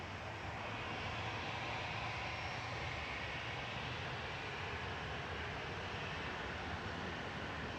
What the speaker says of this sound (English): EasyJet landed in the background, coming in from Geneva